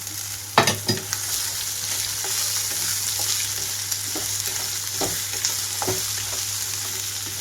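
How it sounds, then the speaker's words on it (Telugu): Onions and carrot pieces with turmeric fry in a pan for a carrot peanut fry. A steady close sizzle runs throughout, broken by a few sharp stirring scrapes and clinks, with no talking. "ఉల్లిపాయ అంతా కొంచెంగా వేగిపోతున్నప్పుడు ఇందులోకి కొద్దిగా పసుపు వేసుకుంటున్నాను. అలాగే కట్ చేసి పెట్టుకున్న క్యారెట్ ముక్కలు కూడా"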